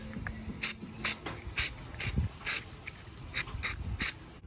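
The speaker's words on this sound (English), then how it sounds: "You could also just spray this cleaner inside" Carburetor cleaner sprays into a carburetor in short, sharp hissing bursts, about nine of them, close and loud, at an uneven rhythm with brief pauses between.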